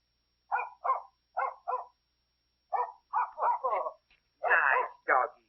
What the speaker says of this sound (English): Nice doggy. Good doggy. Go home.